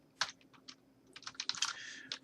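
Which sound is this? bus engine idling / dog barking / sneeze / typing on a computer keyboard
typing on a computer keyboard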